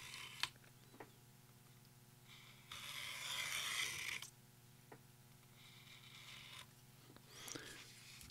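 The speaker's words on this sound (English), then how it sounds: "the easiest way to cut this is not to try to cut it in one pass, but to cut it in multiple passes" A blade cuts a foam light seal strip for a Mamiya NC1000 camera in several passes, giving soft, close scraping strokes: a longer stroke midway and another near the end, with small taps between them.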